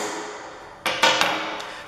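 Hammer striking a steel punch to mark a metal drill gauge workpiece, three or four sharp metallic taps in quick succession, close and moderately loud.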